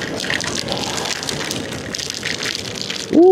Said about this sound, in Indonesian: cukup besar intensitas hujannya.